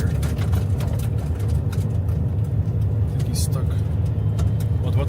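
Truck engine labouring on a snowy road, a constant low rumble with muffled knocks and scraping throughout, voices faintly talking nearby.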